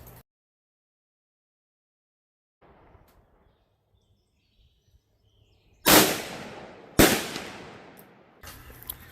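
Two loud, sharp rifle shots about a second apart ring out while sighting in a Victoptics 1-10x24 LPVO scope at 50 yards, each cracking over a quiet outdoor range and trailing off in a brief echo.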